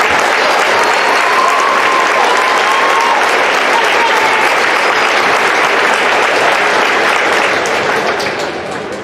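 A large crowd applauds at a school basketball pep rally in a gym, sustained dense clapping at steady loudness throughout, with cheering voices mixed in and tapering slightly near the end.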